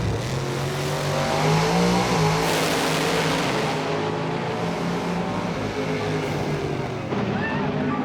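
A turbocharged street outlaw drag race car's engine revs hard and close, rising and holding in a loud rough roar with a sharp surge partway through.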